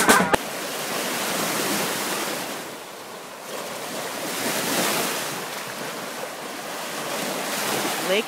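Waves wash steadily onto the Lake Michigan shore near Pentwater, a broad surging roar that swells and eases in slow cycles with some wind noise, no voices.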